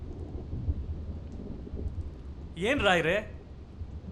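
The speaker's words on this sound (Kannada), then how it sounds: "ಅಯ್ಯೋ, ಏನು ಗುಡುಗು ಸಿಡ್ಲು." Thunder rumbles low and distant during a storm, a faint, steady growl under the scene, while a person briefly speaks over it near the end.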